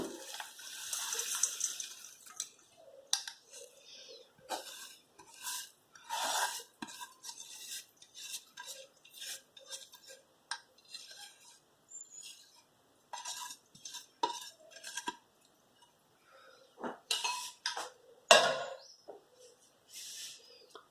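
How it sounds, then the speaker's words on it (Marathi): A spoon stirs roasted spice mix into melted jaggery in a pot for dry fruit barfi, giving repeated scraping and clinking strokes, quiet and close, with no voices. "आता हे सगळं मिक्स करून घेऊया गुळात"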